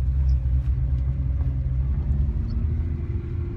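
A go-kart cruises along a road in Japan, producing a loud, continuous low engine rumble close by, with slight swells in level and no voices over it.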